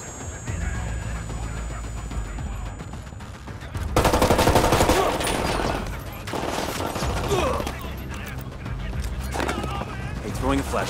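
Gunfire in the video game Ghost Recon Wildlands, loud bursts of automatic shooting with a heavy volley breaking out partway through, mixed with radio-style squad callouts and voices talking over the combat.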